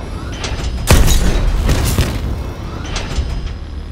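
In the Call of Duty: Advanced Warfare Biolab mission, a missile launches and explodes with a sharp, loud boom, then further rumbling blasts and mechanical clanks follow, without speech.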